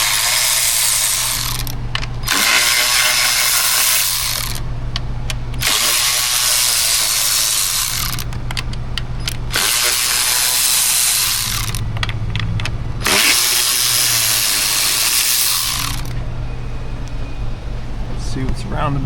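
A hand ratchet clicks in several rapid bursts on the intake manifold bolts of a Jeep Wrangler 3.6, with brief pauses between, close up over a steady background hum.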